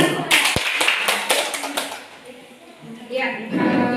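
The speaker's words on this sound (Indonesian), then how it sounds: "Berikan aplaus untuk semua" Applause for everyone at the close of a school presentation on positive culture, with a burst of close hand clapping that fades and then returns, mixed with voices talking over it.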